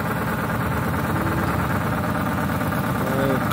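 Ford Crown Victoria police interceptor with a cutout exhaust idling on a cold start, giving a loud, steady, rumbling drone that stays at a constant level throughout.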